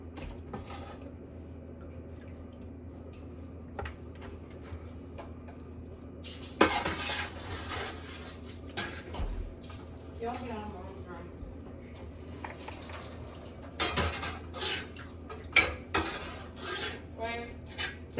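Cooked meat being lifted out of a pot of leftover broth, with scattered clinks and scrapes of utensils against the cookware and a few sharper knocks, all under steady talking nearby.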